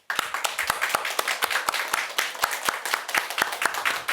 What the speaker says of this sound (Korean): 영광의 박수.